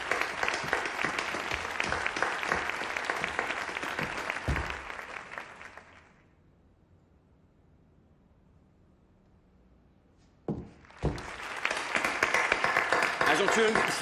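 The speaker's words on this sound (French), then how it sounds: "Merci d'applaudir notre expert en déminage au sein de l'EOD," Loud crowd applause for bomb disposal expert Agent Chung of the EOD unit breaks off into near silence for several seconds, then a sharp thud and the clapping surges back at full strength.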